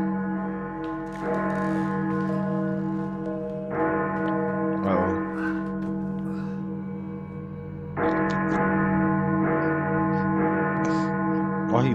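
Loud bells ring out in a horror film, a dense cluster of sustained, overlapping peals with fresh strikes swelling every few seconds over a constant droning tone, with no talk.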